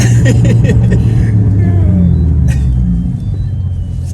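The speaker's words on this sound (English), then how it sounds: "Wait till this car passes." A car passes close by on the road, a loud low rumble that swells at first and then slowly fades away, with no talking over it.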